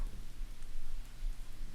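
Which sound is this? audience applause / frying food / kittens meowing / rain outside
rain outside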